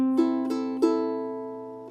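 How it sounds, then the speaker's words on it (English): A ukulele plays a single-note fingerpicking pattern with no chords fretted, a few clear plucked notes ringing out and fading, close and clean with no voices. "Up to tempo, it sounds like this, and I'm not playing any chords with my left hand at the moment, just listen to the picking."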